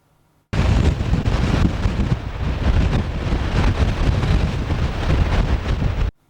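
Wind roars across a stormy sea in early January, a loud, continuous rushing buffet that starts abruptly and cuts off just as suddenly, with no voices.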